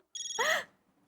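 An electronic phone ringtone sounds briefly for an incoming call, a short tonal trill that swells to a louder chime and then stops.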